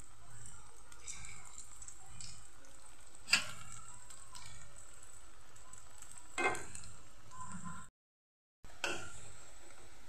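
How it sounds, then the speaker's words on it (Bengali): Lentil and soybean dhoka pieces fry in hot oil in a wok with a steady, soft sizzle, punctuated by sharper crackles and pops as pieces go in, and a short gap of silence near the end. "এখন আমি একটা একটা করে ভেজে নেব।"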